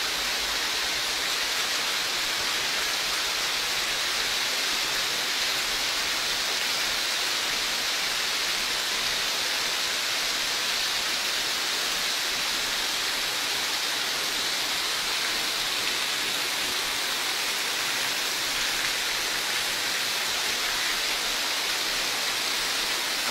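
Water leaking through a school ceiling pours down steadily like a shower, a continuous hiss of falling drops splashing onto a surface.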